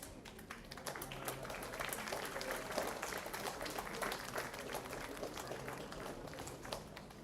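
Applause from the audience at an international academic conference as sponsors are invited onto the dais, a fairly faint, continuous patter of many hands throughout.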